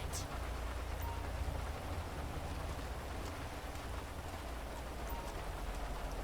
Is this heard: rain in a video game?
yes